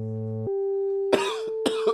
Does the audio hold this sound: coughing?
yes